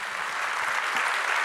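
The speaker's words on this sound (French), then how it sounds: "applaudissements, bien évidemment," An award ceremony audience applauds as a diploma is presented, a continuous dense clapping crowd at fairly close, even volume throughout.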